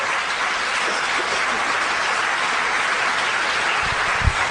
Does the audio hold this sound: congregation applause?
yes